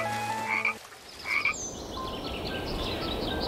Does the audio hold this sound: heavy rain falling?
no